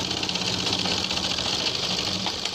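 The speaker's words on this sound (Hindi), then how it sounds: "तो यहाँ से लब की सिलाई हम दूसरी इस पे लगा रहे हैं।" A sewing machine stitching the placket of a ladies' kurta, a close, steady, rapid mechanical whir that runs without a break for the whole stretch.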